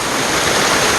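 Waterfall in Waterfall Canyon near Ogden, Utah, roaring close and loud as a steady, dense wash of falling water that fills the whole moment without a break.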